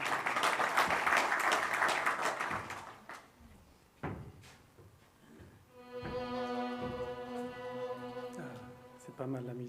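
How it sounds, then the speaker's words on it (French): Audience applause at an AUSIM Ftour gathering welcoming a guest to the stage, a dense burst of clapping for about three seconds, then a few isolated thuds before music with steady tones fades in. "Hicham Chiger, sous vos applaudissements, s'il vous plaît"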